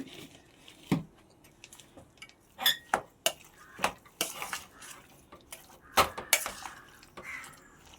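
Ingredients mixed together with salt in a pan, heard as sharp metallic scrapes and clinks of a utensil against the pan in an irregular rhythm, close and fairly quiet, with a faint sizzle underneath.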